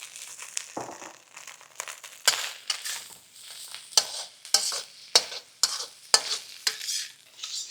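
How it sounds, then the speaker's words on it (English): Rice with scrambled eggs tossed in a very hot wok on an induction wok ring: a loud, close sizzle with repeated bursts of scraping and stirring. "I think it's time to add the rice."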